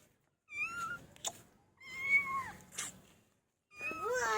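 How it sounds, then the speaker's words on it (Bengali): A cat meows three times, close and clear, each call drawn out and rising then falling, separated by short pauses, with faint household clatter between calls. "একটা বিড়াল চলে এসছে"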